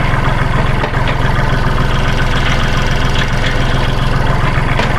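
A Kubota L4018 tractor from 2018 idles close by, its diesel engine putting out a loud, steady, rapid knocking chug that holds an even rhythm throughout.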